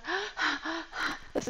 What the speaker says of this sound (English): And you try to breathe deep while doing this.